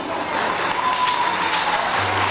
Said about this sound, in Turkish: değerli misafirler alkışlarınızla